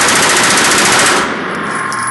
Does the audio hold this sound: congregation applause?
no